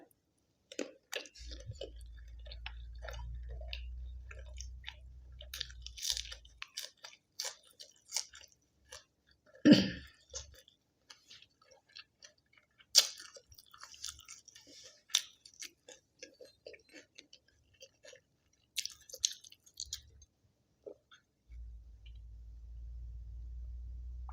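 Close, wet chewing and smacking of Thai rice noodles in coconut curry sauce with sausage and fresh vegetables, steady mouth sounds with occasional crunchy bites over a low background rumble, no talking.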